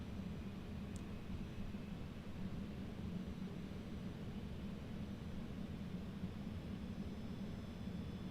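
Concorde airliner on a visual approach in Microsoft Flight Simulator 2020, a steady broadband engine and airflow roar that holds evenly throughout with no speech.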